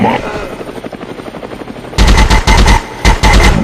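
Video game machine gun fire in bursts, loud rapid rattling volleys in the second half, following a stretch of rotor-like droning and game voice chatter.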